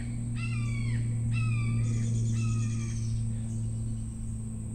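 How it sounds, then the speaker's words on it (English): Crow-like bird screaming outdoors in a rural spot, giving three or four harsh, descending caws in quick succession over a steady low hum. "That was a bird screaming."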